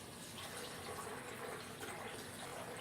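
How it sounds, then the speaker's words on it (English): Water runs steadily from a tap into a bowl of slime being fixed, a continuous broadband pour with no pauses and no voices. "And add some more water."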